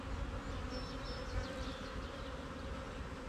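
Honey bees drone steadily around a hive as they are installed into a queen-right starter colony, a dense continuous buzz with occasional individual bees flying close past.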